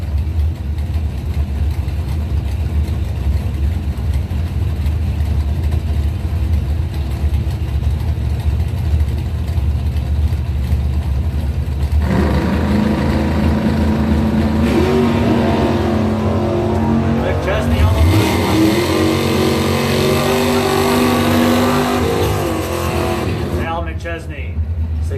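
A 1967 Plymouth Belvedere and a 1981 Camaro at a drag strip, engines idling loudly and then roaring up together in a hard launch, with an announcer talking over the noise throughout.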